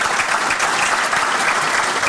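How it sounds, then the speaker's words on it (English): A hall-of-fame awards crowd gives a football coach a round of applause, loud, close and sustained clapping from many hands filling the whole short moment. "I'd like to give him a round of applause."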